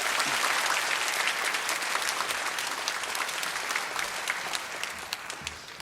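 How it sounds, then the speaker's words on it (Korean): A church congregation applauds to welcome the visiting pastor, dense sustained clapping from many hands that slowly tapers off. "우리 귀한 목사님 보내주신 하나님께 감사의 박수 올려드리며 목사님 맞이하겠습니다"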